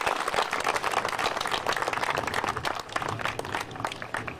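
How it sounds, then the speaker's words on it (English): Outdoor crowd at the annual Manzanar Pilgrimage applauds staff and volunteers, a sustained wash of many hands clapping at moderate distance, steady throughout with a slight dip near the end. "So a big round of applause for the staff and the volunteers at Manzanar."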